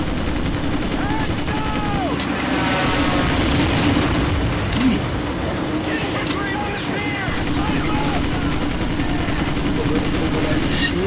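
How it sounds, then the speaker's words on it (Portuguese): Gunfire crackles from all sides in Medal of Honor Pacific Assault, with dense rifle and machine gun bursts and booms over battle noise while a player talks. "Tiro de tudo que é lado."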